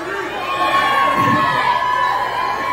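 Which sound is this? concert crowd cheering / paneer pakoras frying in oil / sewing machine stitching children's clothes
concert crowd cheering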